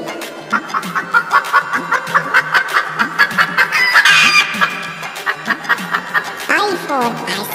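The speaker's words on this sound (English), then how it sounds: "H for hen. Hen means muregi." Hen clucking in a steady run of short, close, rhythmic clucks, with a brief rising call near the end.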